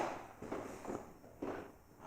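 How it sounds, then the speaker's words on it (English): Creaking floorboards in an old house, a few soft irregular creaks and footstep-like thumps, faint and close, with no talking. "I think floorboards creaking has just caused that."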